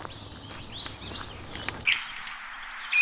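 A song thrush singing in a tree at a nature reserve, giving high bright phrases, first over a low background rumble, then ending in a few louder, clearer notes.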